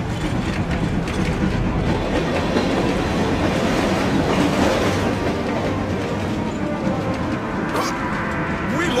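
A train running along rails in an anime action scene, carrying military cargo, with a steady dense rumble and rattling wheel noise throughout and a brief sharper clank near the end.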